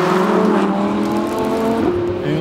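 Audi R8 RWS rear-wheel-drive sports car, its engine note rising and shifting pitch in a sustained loud howl, close and without talk.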